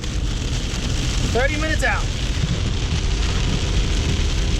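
Heavy rain pours down on a camping trek, a loud, constant wash of hiss and patter throughout, with a person speaking briefly over it.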